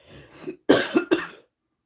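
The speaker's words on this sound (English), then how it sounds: "I haven't been coughing all day until I got on this message." A person coughs several times in quick succession, close and sharp, the bursts separated by short pauses.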